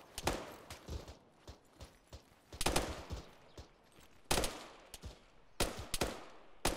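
Gunfire in the Arma 3 war game: sharp, distant rifle shots and short bursts crack out irregularly, some louder bursts standing out against a quiet background, with no talk.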